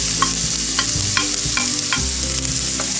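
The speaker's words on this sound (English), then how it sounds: "So my oil is already heated up. I have a wok over here." Ginger and garlic fry in hot oil in a wok with a loud, steady sizzle, while a spatula scrapes and stirs in a regular rhythm, close up and with no voices.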